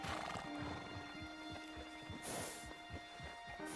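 Horse hooves clip-clop at a steady walking pace while riding in Red Dead Redemption 2, with a faint neigh and an outdoor ambience underneath.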